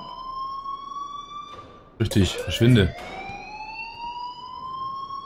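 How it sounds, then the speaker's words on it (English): A school fire alarm in the video game Life is Strange rings as a continuous high electronic tone across the whole stretch, steady and prominent, while someone briefly speaks over it in the middle. "please turn off that alarm since that's your job."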